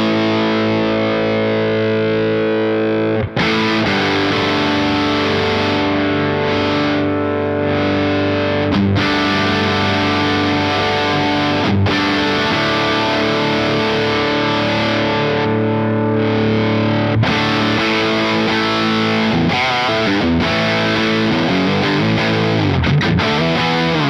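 Electric guitar played through a Synergy IICP amp module set for heavily saturated distortion, loud sustained chords and riffs with a few brief pauses, alone without talk.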